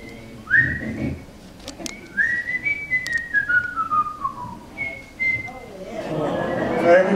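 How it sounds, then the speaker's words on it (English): An audience at an old-time fiddle camp variety show whistles a melody together in long sliding tones, with scattered voices and crowd noise rising toward the end. "we would love to have you whistle along with us"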